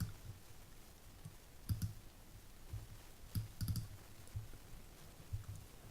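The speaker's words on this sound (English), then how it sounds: "So I'm clicking down on it." Computer mouse clicking while working in Fusion 360 design software, a series of soft, close clicks in small irregular clusters over a quiet background.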